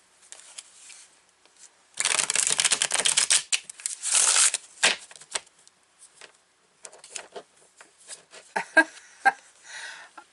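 Tarot cards from a Deviant Moon deck being shuffled up close, with bursts of dense papery riffling and rapid snaps, loudest in a long stretch early on, then scattered softer card taps and slides.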